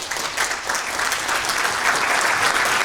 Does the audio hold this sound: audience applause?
yes